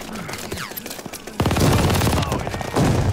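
Bursts of rapid gunfire in a team deathmatch shooter game, loud and close, with people talking excitedly over the shots as a heavy volley kicks in midway.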